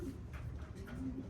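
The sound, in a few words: racing pigeons cooing in a delivery box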